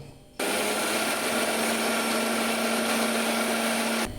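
A mixer grinder whirs steadily as it blends oil with garlic, salt and sugar into homemade mayonnaise, a loud, continuous motor drone with a sustained hum that starts abruptly and cuts off after about four seconds, with no voices.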